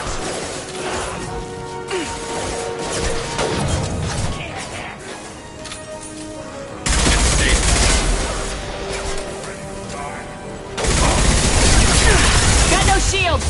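Gunfire and impacts in the sci-fi shooter Mass Effect Legendary Edition 2, a loud dense battle of shots, crashes and bursts under game music and voices calling out, with heavier volleys swelling near the end.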